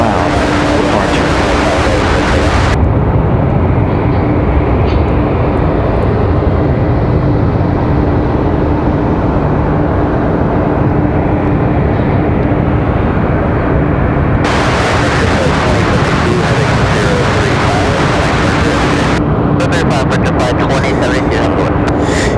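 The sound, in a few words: loud airplane departure at Raleigh Durham airport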